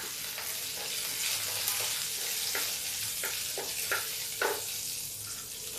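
Crackling, popping sizzle of cumin, chillies and garlic frying in hot oil, with scattered sharp pops over a steady hiss, close up and no voices.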